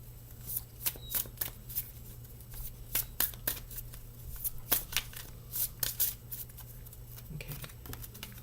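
Oracle cards are shuffled by hand in quick irregular riffles, crisp papery slaps recurring for several seconds, close and fairly quiet against a low steady hum.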